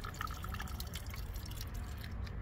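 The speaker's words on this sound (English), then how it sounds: "Water will drain out, that's perfectly fine." Water draining from the bottom relief valve of an RPZ backflow prevention device during winterizing: a steady, faint splashing trickle with small drips, continuous and close, with no talk.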